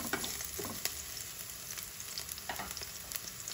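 Pork sautés in a little cooking oil in a pan, sizzling loudly and steadily with a hiss of frying and occasional stirring scrapes. No one speaks.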